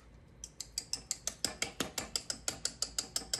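A mechanical hand-cranked whisk churns batter in a bowl, giving a steady run of about fifteen sharp, evenly spaced clicking ratchet strokes that build in loudness and stay close and clear.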